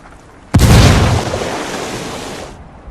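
Frag grenade exploding in Ghost Recon Wildlands, a single loud close blast with a sudden onset and a long rumbling decay that fades after about two seconds.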